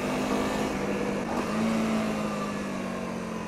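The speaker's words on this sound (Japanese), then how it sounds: "それにしてもこのエンジンは本当によく回るなと思います。" A Honda CRF250L dual-sport motorcycle engine runs on an on-road test ride, a steady, smooth droning hum with a sustained tone under continuous wind rush, with no talk.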